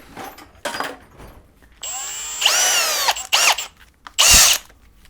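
A power drill fitted with a soft pad, used on motorcycle bodywork for a barn-find Suzuki Katana, whines in several short close bursts of different lengths, with brief quiet gaps and clicks between them.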